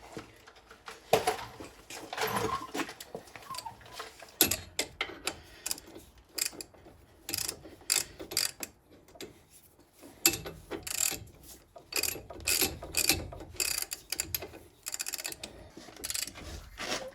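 Bolts being tightened on the front wheel bearing of a Ford Edge, a run of rapid ratcheting clicks in short bursts with pauses, close and fairly loud, no talk.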